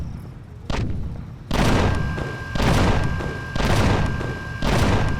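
Flak cannons firing in the space survival game Empyrion Galactic Survival: a faint early shot, then a steady rhythm of four heavy, booming bursts about a second apart, each with a rumbling tail, close and loud with no talk.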